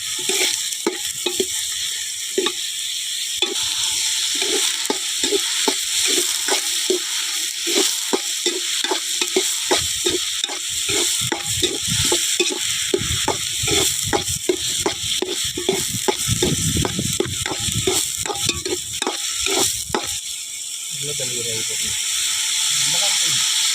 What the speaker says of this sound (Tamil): வெங்காயம் நல்லா ப்ரௌன் ஆகும் வரைக்கும்